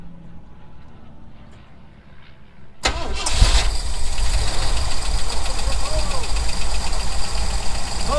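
An old Ford F350 pickup that sat unfinished for 20 years cranks and catches abruptly, then settles into a loud, rough, steady idle close by after a quiet stretch of faint background noise.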